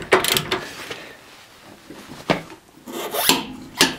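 A wrench working the large nut on a Renault Twingo up to 170 Nm, close and fairly loud, with rasping ratchet-like strokes in a few separate bursts with quieter gaps between them.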